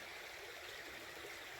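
Licks Creek on the Appalachian Trail in Virginia flows steadily, a soft, even rushing and trickling of stream water heard alone and fairly faint.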